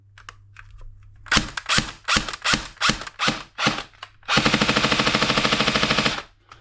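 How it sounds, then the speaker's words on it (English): A JG MP5 airsoft gun running on a 9.6 volt NiMH battery fires a string of quick, separate semi-auto shots, then a sustained full-auto burst of rapid, evenly spaced cracks that ends abruptly. Loud and close, with no talk. "But this is what it sounds like with one of those in."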